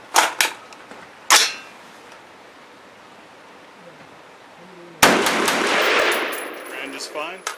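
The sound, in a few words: AR-10 rifle firing Malaysian military surplus ammo, magazine dropping free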